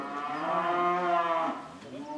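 A single cow gives a long, loud moo from inside a barn, close and clear, trailing off at the end.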